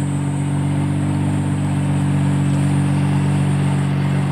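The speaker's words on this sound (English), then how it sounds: "So, some people might think that it's ricer, but no, the RB26 sounds awesome." A 1990 Nissan Skyline GT-R's RB26 engine with a big-bore exhaust holds a steady, close, loud drone with a strong low burble, running evenly with no pauses.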